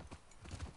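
Horse hooves clip-clopping in the video game The Last of Us Part II, a short run of soft, close steady hoofbeats heard alone.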